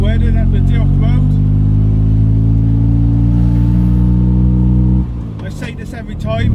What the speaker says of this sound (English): Just this car is a little loud inside. But the engine's right there, right in the back, just behind the seats.